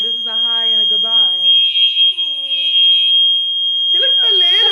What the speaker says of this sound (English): So do y'all hear this damn alarm?